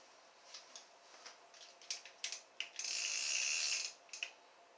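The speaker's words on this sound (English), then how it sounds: "Bait clicker is on." A used fishing reel's bait clicker ratchets in quick, faint clicks, first in sparse bursts, then in a sustained whirring run as the spool turns steadily, before tapering into a few last clicks close up.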